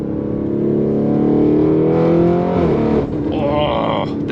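A Lamborghini Urus driven in manual mode revs hard, its engine note climbing loud and steady for a couple of seconds before a gear change, then building again with a sharper, higher whine near the end.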